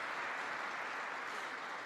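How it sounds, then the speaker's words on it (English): Brief audience applause during a speech to U.S. troops by Vice President Mike Pence, a steady wash of clapping from a sizable crowd, moderately distant. "I thought that might get an applause."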